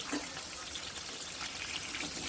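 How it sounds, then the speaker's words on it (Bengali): Rohu fish sizzling in hot oil, a steady close hiss and crackle of frying that continues without a break. "এবারে তেলটা গরম হওয়াতে আমি মাছগুলো ভেজে তুলছি দেখো"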